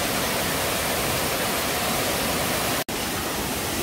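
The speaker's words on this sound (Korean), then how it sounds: "여기 아까 전에 떨어지는 폭포가 여기에요" A waterfall in a Malaysian jungle roars as a dense, steady rush of falling water, loud and close, with a momentary cut near the end and no voices.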